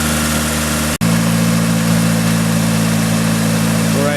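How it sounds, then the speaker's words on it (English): Nissan S15 with an SR20DET engine idles steadily during an engine flush, a constant close hum that drops out for an instant near the start and then carries on evenly. "Alright, so it's on. We got the timer ready. Alright, so while the motor is running,"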